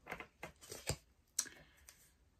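A deck of tarot cards being shuffled by hand: soft, quiet riffling and papery slaps in short irregular bursts, close by with no talking.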